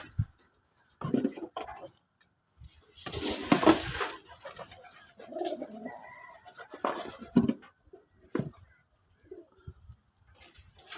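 Domestic native pigeons let out in the morning, soft cooing and fluttering near the listener with scattered wing flaps and bird calls amid quiet gaps.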